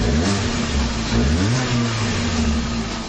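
A Hyundai Veloster's 1.6-liter direct-injected four-cylinder engine revs up and down through a center-mounted exhaust, its pitch rising and falling in steady sweeps, loud and close with no voices.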